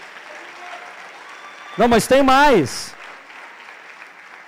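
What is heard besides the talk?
church congregation applauding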